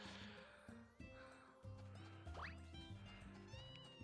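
A cat meows in the farming video game Story of Seasons: A Wonderful Life, a short rising cry over looping game music and ambient farm sounds, fairly quiet.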